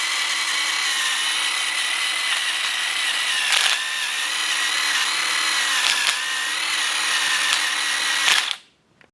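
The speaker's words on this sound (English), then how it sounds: "Now I'm just going to wire wheel these clean where the brackets sit on." A power wire wheel scrubs clean the bracket seats on the rear brakes of a 2020-or-later Nissan Sentra, a loud, continuous high-pitched whirring grind with slight dips under load, cutting off abruptly at the end.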